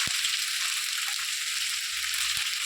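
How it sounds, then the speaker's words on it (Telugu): Ivy gourd pieces salted and frying in a pan, a steady hissing sizzle held close and even throughout, with a faint low knock or two and no speech. "ఉప్పు వేసుకొని బాగా వేయించుకోండి"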